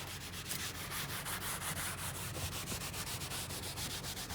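Steady, rapid back-and-forth scrubbing on the door panel of a 1966 Ford Country Sedan wagon, faint and continuous with nothing else heard.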